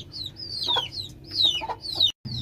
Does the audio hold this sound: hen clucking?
yes